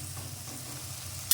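Shrimp sizzle in a pan with a little turmeric and salt, giving a brief, steady frying hiss with a faint stir near the end.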